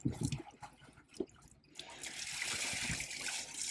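Water gushes and splashes steadily through a portable toilet in a Ford Transit camper van after a few short drips and sloshes, a close rushing flow filling the second half.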